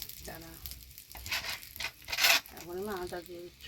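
Two bay leaves sizzle briefly in hot oil, a short crackling hiss that swells and fades, heard close with someone speaking over it.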